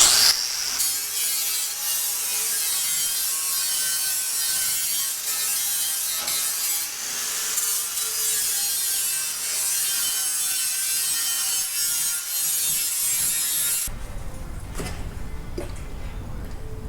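Steady harsh grinding or cutting through the edge of a semi truck fuel tank, loud and continuous for about fourteen seconds, then stopping abruptly and leaving a low rumble.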